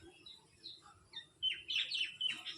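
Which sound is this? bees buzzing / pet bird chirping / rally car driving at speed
pet bird chirping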